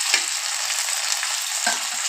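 Ingredients for a thuvayal chutney, including coriander and curry leaves, sizzle loudly and continuously in a hot pan. Two brief scraping stirs break through the steady frying hiss, with no voices.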